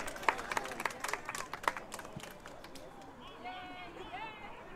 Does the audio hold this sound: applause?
yes